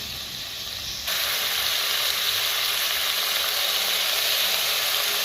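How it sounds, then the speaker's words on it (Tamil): Five kinds of vegetables cooking in oil for Tirunelveli koottanchoru give a steady, dense sizzle that jumps louder after the first second and then holds close and continuous, with no talk. "எண்ணெயில் கொஞ்சம் அந்த காய்கறியெல்லாம் எண்ணெயில் கொஞ்சம் வேகட்டும்."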